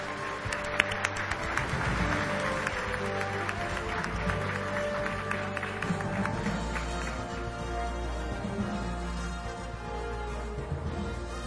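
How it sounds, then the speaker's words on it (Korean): Sustained applause from a large forum audience greeting former US Secretary of State Madeleine Albright at the World Strategy Forum 2010, a dense steady wash of clapping filling the hall for the whole stretch. "Madeleine Albright 전 미 국무장관을 박수로 맞이해 주시기 바랍니다."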